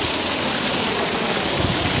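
A park fountain's water splashes steadily and loudly up close, a continuous broadband rush with no pauses or voices.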